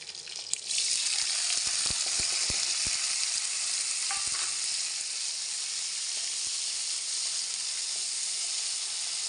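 Onions and green chillies fry in a pan for a matar aloo tadka, giving a loud, continuous sizzle with a burst of stirring clatter at the start before the hiss carries on steadily.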